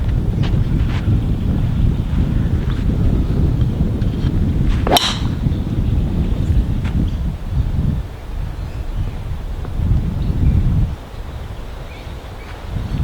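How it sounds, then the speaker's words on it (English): Strong wind buffets the microphone outdoors, a loud rumbling roar that surges and drops in gusts. A sharp metallic clang rings out once partway through. "The wind is so strong."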